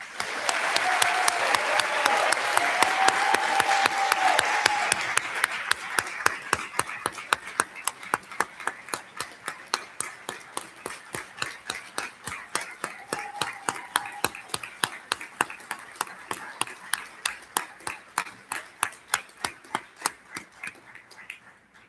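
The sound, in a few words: audience applause for hooded master's graduates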